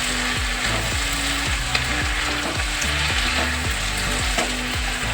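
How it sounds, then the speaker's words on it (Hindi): Potatoes with fenugreek leaves fry in a pan over a high gas flame, a loud continuous sizzle broken by repeated rhythmic scrapes and knocks of a stirring spoon, close up with no talking. "पलटी पलटी करके इसको चलाते रहेंगे। और गैस की फ्लेम हाई रखेंगे।"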